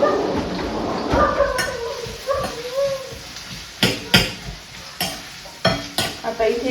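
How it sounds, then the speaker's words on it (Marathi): Onions fry in a pan while being stirred, a steady sizzle with repeated sharp scraping and clinking of the spoon against the pan, close and fairly loud. "आता इथे कांदा पूर्ण लाल करून घेऊ, गुलाबी करून."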